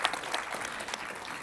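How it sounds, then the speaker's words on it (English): Audience applause at a conference event, a steady wash of clapping hands filling the space for a short burst, with no voices on top. "give her an applause again"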